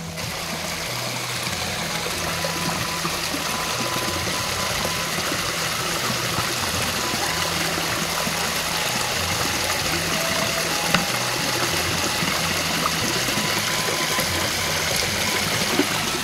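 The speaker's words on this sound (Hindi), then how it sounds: "तो मैंने खोज निकाला ये छोटा सा झरना। तो देखिए, मैं यहाँ पे पानी भर रहा हूँ बोतल में" Water from a small natural spring in a Himalayan hillside field trickles and splashes steadily into a bottle being filled, a continuous flowing burble heard up close and alone for the whole stretch.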